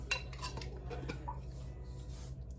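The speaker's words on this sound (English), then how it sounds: "All right, I'm gonna mix this up" Food being mixed in a bowl, with quick clinks and scrapes of a utensil against the dish in a short, fairly quiet burst.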